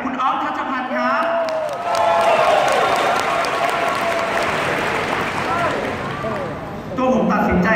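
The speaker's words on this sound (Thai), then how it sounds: "ขอเสียงปรบมือให้กับคุณอ๊อฟทัชพันธ์ครับ" A live audience applauds a speaker at a business success event, with sustained clapping and some cheering that swells and continues for several seconds, while someone speaks over it through a microphone.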